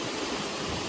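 Water pours and rushes steadily at a traditional water mill in a village, a dense, even roar heard up close for a brief moment with no talk.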